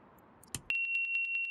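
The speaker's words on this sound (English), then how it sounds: "Silence the deafening alarm." Cockpit alarm in a Dreamfoil B206 helicopter in X-Plane 12 triggered by switching on the battery: a steady, piercing high-pitched tone with a rapid pulsing overtone, starting abruptly after a brief click and continuing unbroken.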